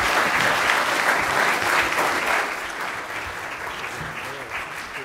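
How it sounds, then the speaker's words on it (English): Audience applause at a legislative forum closing a panel, a dense, steady round of clapping that stays loud before easing slightly in the second half. "let's give this group a robust round of applause."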